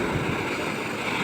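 Waves washing against the seashore with a steady, unbroken roar and wind noise, loud and close throughout, with no voices.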